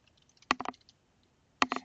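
Typing on a computer keyboard while searching in Google Chrome: two short bursts of a few quick, crisp clicks close by, separated by a pause.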